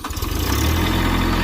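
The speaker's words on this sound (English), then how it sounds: "Okay, so I got my father on the tractor." A tractor engine runs steadily and loudly nearby with a low rumble while work is done laying asphalt for an RV parking spot.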